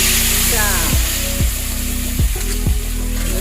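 Cumin seeds and asafoetida hit hot oil in which mustard seeds have already popped, giving a continuous bright sizzling hiss, while a person talks over the cooking.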